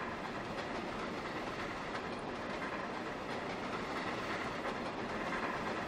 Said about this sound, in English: now that's starting to sound like a steam engine at high speed.